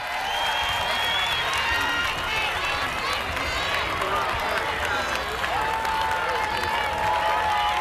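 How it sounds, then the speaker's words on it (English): High school football fans at a Phoebus Phantoms vs. Hampton Crabbers game applaud an injured player as he leaves the field, a steady spread of clapping and crowd noise from the stands under a commentator's voice. "The Hampton fans applauding Ronald Curry as he is leaving the field"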